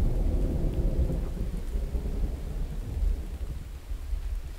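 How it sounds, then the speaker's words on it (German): A thunderstorm with steady rain in the survival video game The Infected: a dense, continuous low rumble of thunder under hissing rainfall, loud and unbroken throughout with no talking. "auch wenn es jetzt beim Gewitter und Regen vielleicht ein bisschen bescheiden ist"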